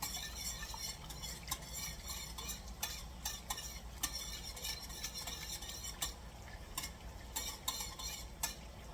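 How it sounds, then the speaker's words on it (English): Wide whisk stirring a fruited port sauce with fruit pieces in a pan, a steady, busy scraping and clinking with quick metallic taps throughout, close and fairly loud, with no voices. "So see, I can whisk with this because it's wide enough for the fruit pieces to go through."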